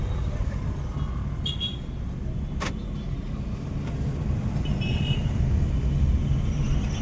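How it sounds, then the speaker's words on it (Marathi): A Maruti Swift diesel car accelerating on a road test drive after a major service, its engine a steady, close drone that builds slightly toward the end, with no voices over it. "अशी जसं ॲक्सिलेटर वाढवलं तसं एकदम स्पीड पकडायला लागल्या."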